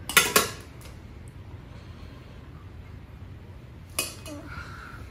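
Dishes and cutlery clink while food is plated: a quick cluster of close clatters at the start, a quiet stretch, then one more clatter near the end.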